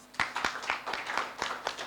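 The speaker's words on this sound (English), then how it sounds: "So let's also clap for Ruth." Audience clapping for an honoree at a summit event, a short burst of scattered hand claps with irregular rhythm, moderately close and without talk.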